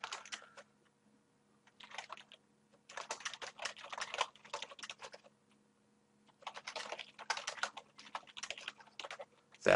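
Fingers typing a note on a computer keyboard, close and quiet, in several quick bursts of clicking keystrokes separated by short pauses in an otherwise silent room.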